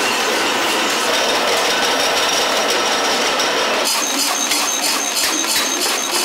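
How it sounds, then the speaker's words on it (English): An industrial leveling machine trims incense sticks to a uniform size, giving a loud, continuous mechanical grind and rattle that suddenly shifts to a brighter, sharper tone partway through, with no voices. "leveling machine."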